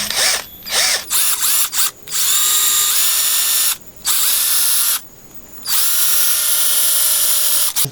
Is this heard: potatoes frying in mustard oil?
no